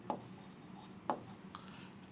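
A formula being written on a board during a class comes through as quiet, close pen or chalk strokes, with two distinct sharp taps about a second apart and soft scratching between them.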